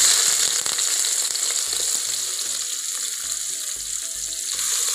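Onions fry in hot oil for lima bean curry (avarekalu saaru): a loud, bright sizzle runs throughout, with a few light clinks and knocks of stirring against the pan, and no voices.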